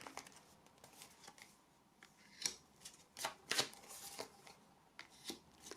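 Tarot-style cards being shuffled and handled close by, a run of crisp riffling and flicking bursts with quiet gaps between them.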